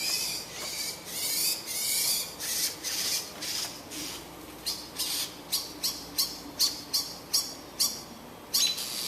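A bird screams near a window, giving a run of harsh, rasping squawks that speed up into a rapid regular series, loud and close, with no voices present.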